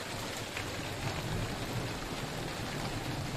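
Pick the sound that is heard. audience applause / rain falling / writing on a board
rain falling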